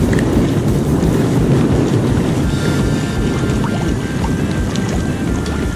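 Steady wind gusting over a lake during bass fishing from a boat, a loud continuous broadband rush with wind buffeting the microphone throughout, no talking.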